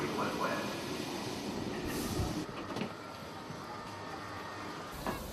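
A passenger train rolls in, bringing crowds to a large religious gathering, with a steady rumbling roar, wheel rattle and brief squeals over a few seconds, under a narrator's voice.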